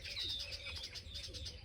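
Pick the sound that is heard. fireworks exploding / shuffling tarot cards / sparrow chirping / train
sparrow chirping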